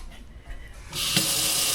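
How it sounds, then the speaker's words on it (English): An apartment kitchen water tap turned on partway through, a quiet room giving way to a loud, steady hissing rush of running water that continues to the end. "It is currently 8:09 and the water is still running."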